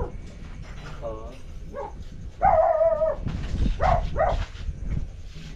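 A dog on a farm during harvest barks and yips in short bursts, fairly close, mixed with whimpering sounds over steady background noise and voices talking.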